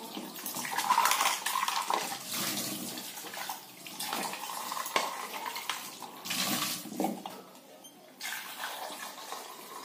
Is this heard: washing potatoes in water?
yes